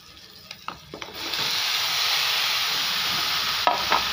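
Ridge gourd and chana dal stirred and frying in a pan, with a few soft scrapes before a steady loud sizzle takes over, plus a couple of brief clatters near the end.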